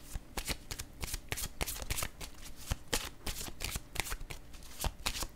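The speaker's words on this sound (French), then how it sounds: "Je vais piger une carte rose." Cards from a tarot deck being shuffled and handled, a close, steady run of crisp riffling flutters and snaps with no voices.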